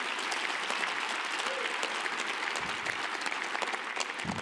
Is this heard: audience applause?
yes